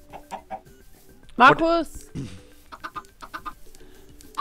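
Chickens in Minecraft cluck in short bursts over a makeshift chicken farm, with a loud squawk near the middle and scattered game effects, while a voice calls out once.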